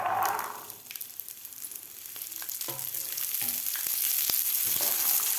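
Green chickpeas dropped into hot mustard oil with spluttering cumin and mustard seeds: a loud burst of sizzle at the start, easing briefly, then a steady, bright frying hiss building again with a few stirring knocks.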